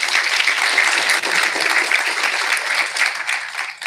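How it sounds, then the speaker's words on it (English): An audience applauds panelists at an anniversary event on urban sustainability, steady lively clapping close by for nearly four seconds, fading slightly at the end. "A round of applause for our panelists, please"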